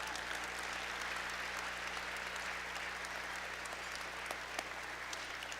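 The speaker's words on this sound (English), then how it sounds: "How about a big round of applause for our past inductees?" Sustained applause from a dinner ceremony audience honoring past inductees, a dense, even wash of clapping that continues without a break.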